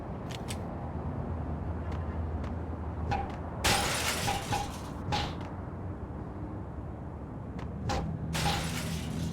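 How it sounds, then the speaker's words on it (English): Glass shop fronts smashing in the Max Payne shooter game, with several sharp shattering bursts spread across a steady background hiss. "they'd have an achievement for smashing all these glass fronts"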